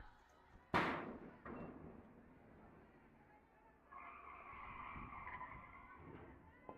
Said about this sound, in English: And our first foul ball sound effect of the year.